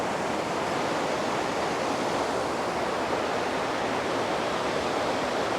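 A small but powerful waterfall in Switzerland pours in a constant, broad rushing roar, close and steady throughout with no voices.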